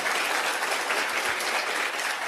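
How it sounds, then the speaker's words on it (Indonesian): An audience at a direct-selling seminar breaks into brisk, dense applause for a short burst, steady and fairly loud with no talk over it. "Tepuk tangan dulu buat Anda deh,"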